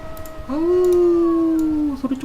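A wolf in the video game Shelter 2 lets out one long, steady, loud howl that rises and holds for over a second before tailing off into short yips.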